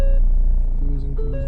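A Ford Focus backing up slowly: a loud, close engine idle rumble runs throughout with a steady tonal whine that shifts pitch partway through.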